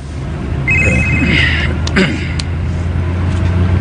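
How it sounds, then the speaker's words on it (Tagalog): A cellphone rings with a short electronic ringtone tone over a steady low rumble of a vehicle or engine in the background, loud and close, brief. "Cellphone, sir!"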